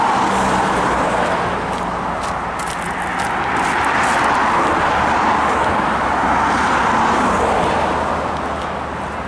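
Cars drive along a road near the A24 at Holmwood, a continuous broadband whoosh of passing traffic that swells and fades gently, fairly close and steady throughout.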